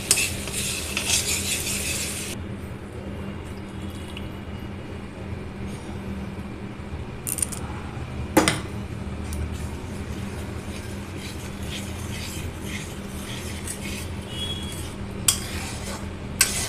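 Water is poured over fried spices in a pan for cabbage curry. A loud hissing burst opens, then a steady simmering hiss continues with occasional stirring clatter close by, and no one speaks.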